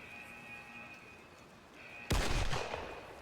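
A single loud, close sniper rifle shot cracks out in the shooter game IGI 2 after a stretch of steady low background hum, its boom decaying over about a second.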